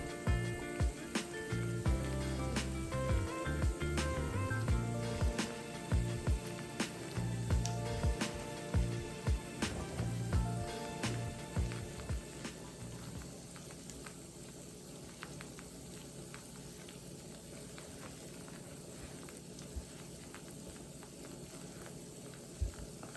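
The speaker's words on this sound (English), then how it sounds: "fry till nice and crispy" Dessert taco shells fry in a pan with a soft bubbling sizzle and scattered crackles and pops, busier at first and then settling into a quieter, steady fry, with no talk.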